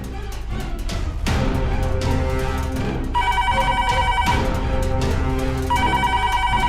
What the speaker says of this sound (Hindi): कौन फोन कर रहा है बार बार?